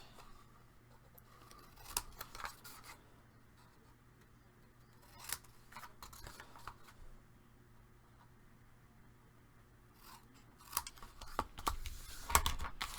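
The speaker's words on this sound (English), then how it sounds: "I'm going to go ahead and cut off from one corner to the next." Scissors cut across from one corner to the next in a quiet papercraft session, giving sparse, soft snips and crisp rustles over a faint low hum, with a denser burst of cutting near the end.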